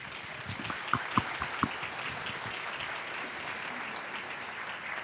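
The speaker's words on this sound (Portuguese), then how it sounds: "Rodrigo Dantas, que recebe os nossos aplausos." Applause from a conference audience greeting a technology executive at a Brazilian banking and financial services stage event, a steady faint wash of clapping with a few sharper claps standing out early on.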